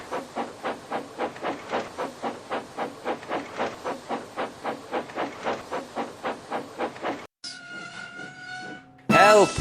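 A Northwestern Railway steam engine chuffs in a steady, loud rhythm of repeated puffs, then gives a short whistle-like tone and a final burst of hissing steam.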